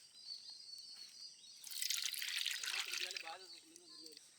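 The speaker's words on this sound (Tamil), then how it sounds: "சமோசா செய்கிறதுக்கு எண்ணெய் ஊற்றிக்கலாம்." Cooking oil poured into a pan for frying samosas, heard as a soft, steady liquid splash that swells for a second or two and then trails off into quiet trickling.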